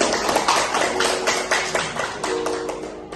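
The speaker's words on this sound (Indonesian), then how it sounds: "Beri aplaus." A primary-school class claps together for a pupil's correct answer, a quick run of bright, fairly close hand claps that ripples on for a few seconds before tapering off.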